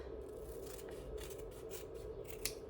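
Scissors cutting a strip of face tape, a series of soft quiet snips and crisp paper-like cuts at close range, with one sharper snip near the end.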